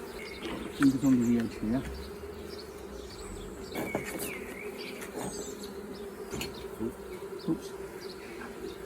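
Honey bees from a zoo colony buzz steadily around their hive as it is handled, a close, continuous insect drone with small rises and scattered clunks, while a person speaks briefly.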